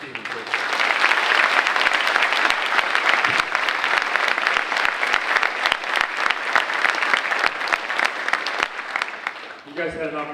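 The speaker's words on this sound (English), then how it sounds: "One more round of applause for Mr. Stevens, please." A school assembly audience claps in sustained, dense applause at full strength for several seconds before it tapers off, with a voice starting to speak at the very end.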